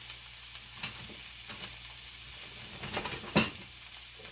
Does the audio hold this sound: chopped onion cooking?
yes